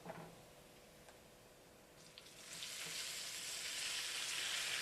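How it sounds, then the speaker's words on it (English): Tomatoes added to garlic browned in olive oil for a tomato basil pasta sauce, a few light clicks giving way to a rising, steady hiss of sizzling that grows louder and continues. "So I'm going to go ahead and add the tomatoes in now."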